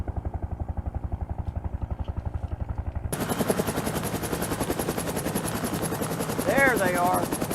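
A military helicopter's rotor thumps in a steady, fast beat in an action-movie scene, then grows louder and busier as it approaches, with gunfire-like clatter and sound effects layered over it.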